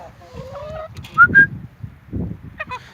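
A rooster's brief crowing call rises over low background murmur and rustling, followed by a short squawk near the end.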